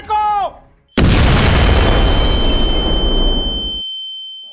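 A bomb explosion sound effect in a stage play at an ISKCON temple: a brief voice, then a sudden loud boom that rumbles on for about three seconds before cutting off.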